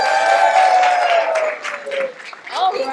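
An audience applauds at a live stage event celebrating activism, with steady, dense clapping and a sustained voice-like cheer or whoop over it throughout.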